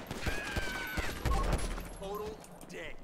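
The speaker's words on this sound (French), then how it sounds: "il y a coup de feu, il y a coup de feu par contre" Gunfire pops in a GTA police patrol mod scene where a woman shoots at a security guard, quick cracks and a heavier blast mixed with game noise while someone talks over them.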